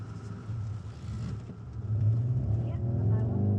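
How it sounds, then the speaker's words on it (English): A car speeds past in the rain on a wet road, its engine rumble and tyre hiss swelling louder toward the end as it closes in. "Whatever the car that flew past was, it must be shifting."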